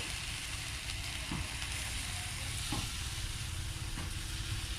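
Takoyaki batter sizzles and fries steadily on a hot pan, a constant crackling hiss with a few soft clinks.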